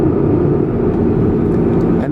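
A 2012 Chevrolet Camaro SS RS with a six-speed manual gearbox drones loudly from inside the cabin after a downshift to third, a dense, continuous engine roar with little variation.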